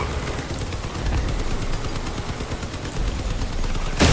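Rapid, loud, continuous machine-gun fire in the vehicle combat video game Crossout, dense bursts rattling without pause for several seconds, with a sharp louder blast at the very end.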